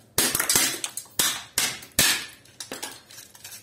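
A hammer strikes a copper deflection coil from an old CRT during scrap recovery, a series of sharp irregular metallic bangs and crunches, loud and close, with no voices.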